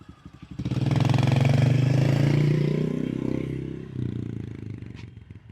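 A child rides a 2021 Honda CRF110, a 110cc kids' dirt bike, its engine revving up loud and close, holding a steady buzzing drone before easing off and picking up again.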